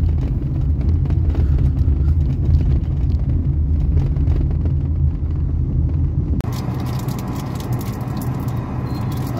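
A car drives over paver blocks on the Mumbai–Goa highway NH66 between Nandgaon and Panvel, a constant heavy road rumble that shifts in texture partway through, with no voices.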